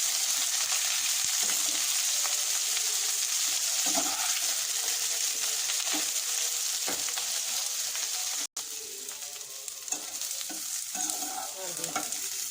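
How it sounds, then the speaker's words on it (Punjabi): Steady sizzling of jackfruit frying in hot oil, with stirring and scraping in the pan throughout and a brief dropout partway. "ਇਸ ਨੂੰ ਆਪਾਂ ਚਾਰ ਤੋਂ 5 ਮਿੰਟ ਫਰਾਈ ਕਰ ਲੈਣੀ"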